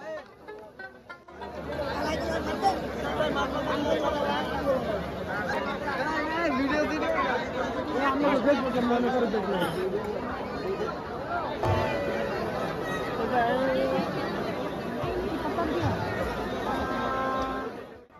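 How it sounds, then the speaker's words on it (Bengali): Dense crowd chatter fills the Jamai Mela fair in Binirail, Gazipur: a steady babble of many voices close around, with shouts and calls rising out of the hubbub for the whole stretch. "যতই মেলার ভিতর প্রবেশ করতেছি ততই ভিড় বাড়তেছে।"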